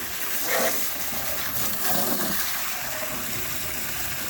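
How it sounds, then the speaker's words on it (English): Water in a backyard duck pond being churned and circulated, a steady rushing, gushing wash with brief louder surges, close and continuous, with no talking. "So now we're going to churn the water,"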